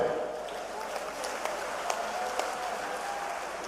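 An audience applauds at a public groundbreaking ceremony for a flyover over the Swarn Rekha river in Gwalior, a steady wash of crowd clapping with a few sharper claps, heard at a moderate distance.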